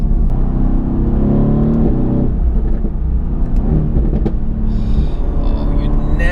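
A 2017 Mercedes-AMG GT R engine accelerates hard, a loud, close rumbling roar with rising pitch and gear changes, booming throughout.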